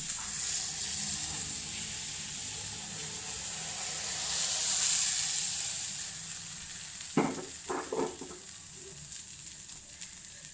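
Appam batter sizzles steadily in a hot pan as it is swirled around, a soft continuous hiss, followed near the end by a few brief clinks of the pan.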